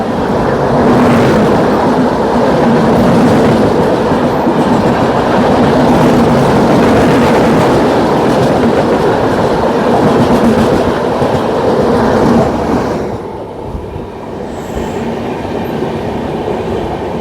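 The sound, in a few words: train passing by on the railway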